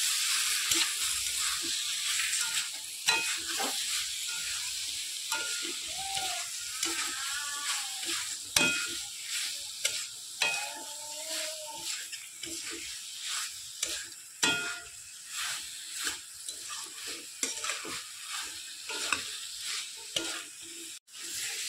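Soybeans fry with spices and tomatoes in a pan, sizzling steadily close up while a utensil stirs and scrapes in repeated irregular strokes, with no voices.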